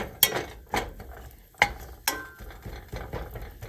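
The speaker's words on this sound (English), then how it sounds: "So I'm going to crisp up the bacon here." Bacon crisping in a pan is stirred, giving several sharp scraping clatters of a utensil against the pan at irregular intervals over a low background sizzle, close and fairly clear with no voices.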